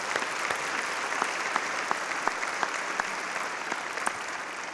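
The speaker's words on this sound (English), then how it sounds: "Let's give them all a round of applause again." A large audience at a community event applauds, a continuous dense wash of clapping with a few sharper individual claps standing out, steady and sustained throughout.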